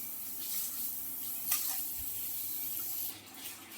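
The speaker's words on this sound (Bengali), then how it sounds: "কারি পাতাগুলোকে ধুয়ে নেওয়া হলো।" Curry leaves washed under a running kitchen tap, a steady close hiss of flowing water that splashes throughout, with no talking.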